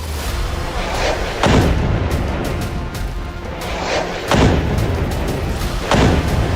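Three deep booming rocket explosions spaced a few seconds apart, each a sharp heavy thud over a steady low rumble of background noise.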